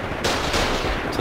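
Gun turrets fire in the video game Foxhole while defending a forward operating base, giving two or three sharp, loud bursts over steady battlefield noise, with no voices.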